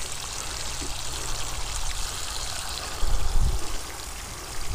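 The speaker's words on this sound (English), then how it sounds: "So I'm going to really water it." Water pours steadily onto potting soil in a 5 gallon Root Pouch fabric grow bag planted with a patio tomato, a continuous close trickling rush that swells louder partway through, with no talking.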